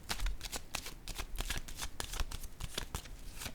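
Tarot cards handled and placed during a reading, a close, steady run of quick papery snaps and riffles with no voice.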